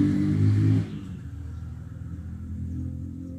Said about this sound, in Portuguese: Muito barulho de moto, muito barulho de carro.